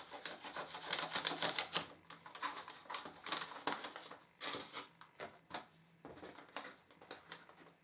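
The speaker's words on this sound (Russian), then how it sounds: "Разрезаем ниточку." Scissors snipping and rubbing through the string on a small parcel box, a run of dry, crisp scratchy cuts and rustles close to the ear, with no one talking.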